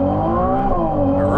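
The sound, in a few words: Ferrari 296 GTB accelerating on the Nürburgring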